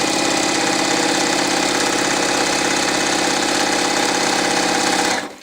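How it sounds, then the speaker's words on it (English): Close and loud, a sewing machine stitches quilt pieces from a tropical-print kit in one fast continuous run of rattling needle strokes that stops abruptly near the end, with no talking. "And now we're going to stitch along here."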